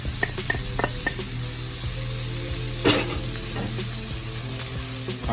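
Caramelized vegetables and flour sizzle steadily in a pan for smothered pork chops, with scraping stirs and a few sharper clicks over the continuous frying hiss, close and fairly loud.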